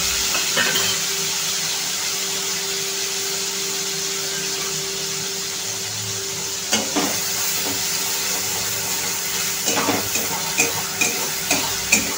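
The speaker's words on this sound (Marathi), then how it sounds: "आलं लसणाचा कच्चेपणा जाईपर्यंत आपल्याला हे परतायचं आहे।" Ginger-garlic paste sautés in a pan over a cumin and mustard seed tempering, making the filling for aloo paratha. A loud, steady sizzle runs throughout, broken by a few sharp spatula taps and stirs toward the end, with no talking.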